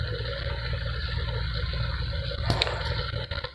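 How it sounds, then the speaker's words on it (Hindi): Water pours into a pot of mutton karahi (mutton gosht) as it cooks, making a steady, close rushing and splashing sound that ends in a brief clatter. "इसके अंदर पानी ऐड करेंगे।"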